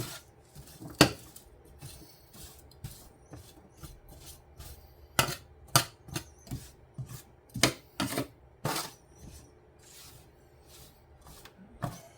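Oven fries tossed with salt and cayenne pepper being stirred in a dish, producing irregular scraping and rubbing strokes with a few sharper knocks, close and moderately loud, with no voices.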